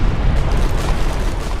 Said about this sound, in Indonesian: Bom dan ranjau meledak bersamaan menewaskan banyak prajurit sekaligus meratakan sebagian hutan.